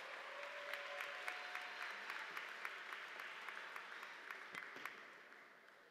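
A university spring commencement audience claps for a student speaker: steady, moderately distant applause with scattered sharp claps, slowly tapering off over several seconds.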